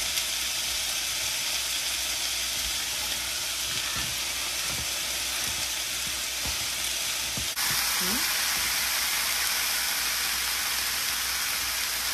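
Tomato paste sizzles and fries with onions in a pan while being stirred, a steady loud hiss with soft scraping, and a faint voice under it.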